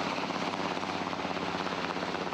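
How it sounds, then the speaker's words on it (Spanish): Helicopter flying over municipalities of Cauca, Colombia, a steady loud rotor chop and engine roar filling the whole stretch without letup, close and continuous. "A esta hora desde Cali y Popayán parten helicópteros y aviones a diferentes municipios caucanos"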